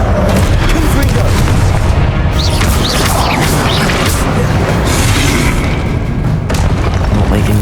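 Confringo blasting spell in the Hogwarts Legacy video game, a loud dense booming explosion that fills the whole stretch with rumbling crackle and scattered debris-like bursts, game effects layered thickly over a voice.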